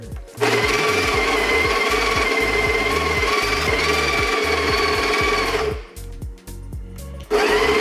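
A Breville Smart Grinder Pro electric burr grinder grinds coffee beans with a loud, steady motor whine and rattling crunch for about five seconds. It dips and strains briefly, then surges back at full volume.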